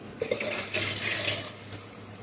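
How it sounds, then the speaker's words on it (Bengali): Water pours into a pot of measured rice for bhapa biriyani, a short close splashing stream that swells and then eases off, with a small clink near the end. "এবার যতটা চাল তার থেকে হাফ জল দিয়ে দিলাম"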